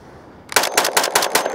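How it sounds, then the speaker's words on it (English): A Springfield Armory Hellion rifle empties its magazine of 5.56 rounds in a loud, close, rapid string of shots, each crack following hard on the last after a brief quiet lead-in. "All right, mag dump."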